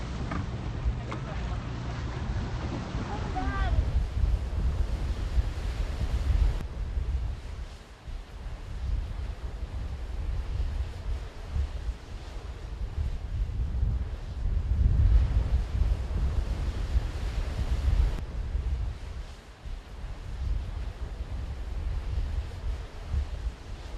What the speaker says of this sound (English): That's lava hitting the water?